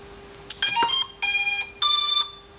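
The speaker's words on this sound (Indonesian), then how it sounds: "Kalau bunyinya itu buzzer" A YY010 brushless drone's startup buzzer sounds three short electronic beeps with a brief chirp before them, clear and close against a quiet background hum.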